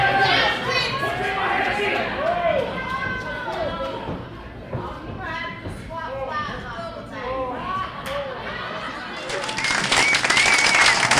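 A wrestling crowd cheers and claps steadily through the whole stretch, with a commentator talking over the noise and the applause swelling louder near the end.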